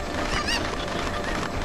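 Chicken calls from The Legend of Zelda: Ocarina of Time, a few short nasal clucks and squawks over a steady background hum.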